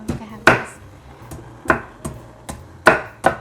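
A knife slices ginger for tea with about seven sharp, close cuts at an uneven pace, separated by short pauses, with no talking.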